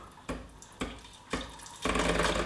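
Hot water runs from a De'Longhi Magnifica ESAM4200 bean-to-cup coffee machine, a steady splashing stream that rises in bursts and grows louder and fuller near the end, close by with no talk.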